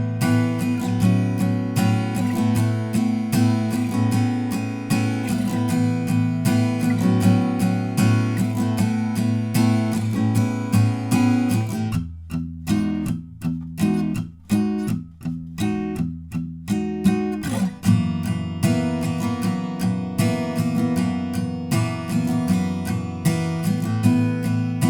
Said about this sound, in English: So that's it for the pre-chorus, which sounds like this.